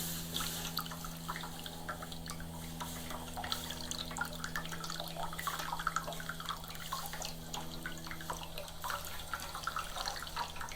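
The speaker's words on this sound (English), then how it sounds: "And now it's dripping on the floor." Liquid dripping onto a floor from a Honda lawn mower with a loose wheel, a steady patter of small drips over a constant low hum, close and fairly quiet.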